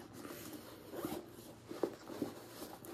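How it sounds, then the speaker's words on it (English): Zipper on a bag pocket being pulled in a few short, quiet rasping strokes, faint and close with no talking. "And the zipper pocket,"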